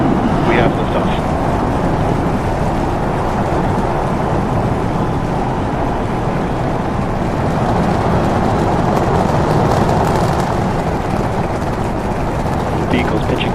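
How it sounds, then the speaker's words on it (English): A Fênix Alpha / Starship rocket lifting off, a loud, continuous broadband roar and rumble that holds steady throughout with a crackling texture, while a voice talks over it. "We have liftoff."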